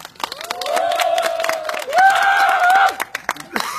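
At an outdoor candlelight protest rally in Seongju against the THAAD deployment, a crowd gives dense, steady applause as a committee chairman is welcomed to speak, with sustained shouts and cheers rising over the clapping.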